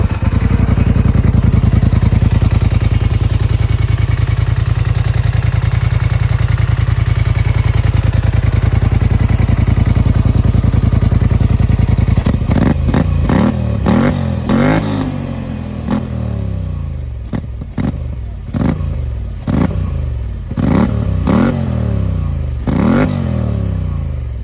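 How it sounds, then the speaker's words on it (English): A Polaris Sportsman 850 Premium ATV with a twin-cylinder 850 engine idles loudly and steadily up close, then gets blipped through a string of sharp revs that rise and fall repeatedly. "I will go ahead and fire this up because I know a lot of people like to hear that. It'll be a taste of what this twin cylinder 850 sounds like."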